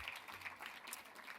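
A faint round of audience applause after a screening and panel talk on viral outbreaks, a thin, even patter of many hands heard from a distance throughout.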